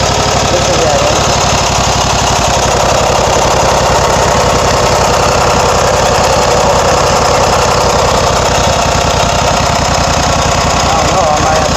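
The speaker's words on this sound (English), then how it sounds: "Listen to that engine." Small engine running hard and loud with a dense, rattling, knocking chug that holds steady throughout, close up and alone without talk.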